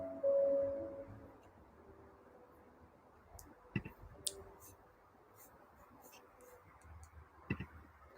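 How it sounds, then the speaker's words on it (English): A few sharp computer mouse clicks sound singly and sparsely against a quiet room background with a faint hum. "Clicking on things I'm not meant to be clicking on."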